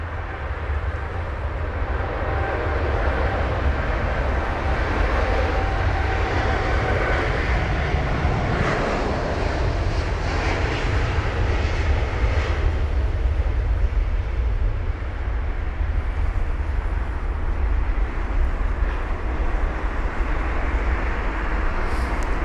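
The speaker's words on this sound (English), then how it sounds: "this Air Canada 7879 Dreamliner, registered as Charlie Foxtrot Kilo Sierra Victor," An Air Canada Boeing 787-9 Dreamliner departing Heathrow for Calgary on a wet runway, with a loud, continuous jet roar and spray hiss that stays strong and close for the whole stretch.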